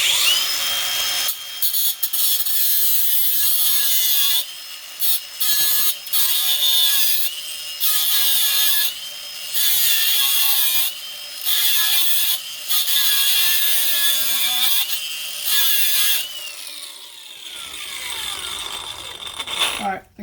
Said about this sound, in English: we're gonna pull this track bar bolt